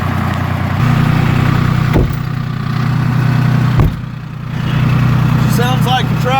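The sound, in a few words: two-stroke diesel Toyota engine running after cold start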